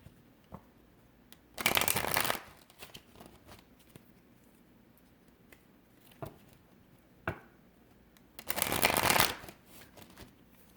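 Tarot cards shuffled by hand in two brisk bursts of riffling, each about a second long, separated by quiet stretches with a few soft taps and card handling noises close by.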